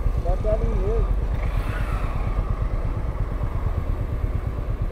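Royal Enfield Meteor 350 motorcycle being ridden with a passenger through traffic, its single-cylinder engine thumping in a steady low pulse under constant wind rush, close and loud, while a voice briefly chirps over it.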